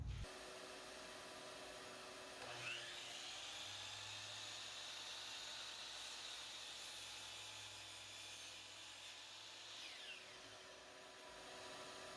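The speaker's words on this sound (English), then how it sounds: "Let me turn on the vac here." A shop vacuum used for dust collection on a 12-inch DeWalt miter saw starts up with a rising whine, then runs as a steady loud whoosh and hum for about seven seconds before winding down. Faint room noise continues after it stops.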